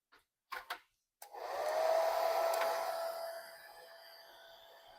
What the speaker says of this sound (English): you're just going to blow dry